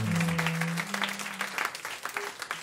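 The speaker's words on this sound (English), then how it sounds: "Now give yourself one more round of applause." At a live music session, an audience claps in a brief burst of applause. A sustained musical tone fades out at the start, and the clapping then continues unevenly before tapering off.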